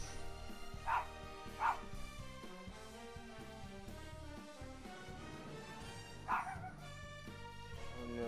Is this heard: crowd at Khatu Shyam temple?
no